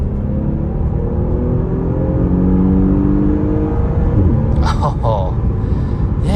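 A 2020 Porsche Panamera 4 pulls hard under acceleration, its engine note climbing smoothly through several gears as a loud, steady interior rumble, with brief voices near the end.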